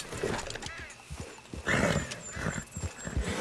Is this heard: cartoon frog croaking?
no